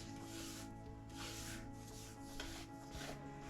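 Brush strokes sweep acrylic ink across a canvas in repeated soft rubbing passes, a steady scratchy swish close by with no talking.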